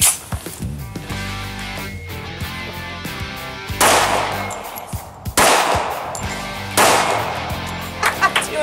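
A full-size Springfield 1911 handgun fires a string of loud, close shots, several sharp cracks spaced a second or so apart with dense ringing echoes over a steady background din, and no talk between them.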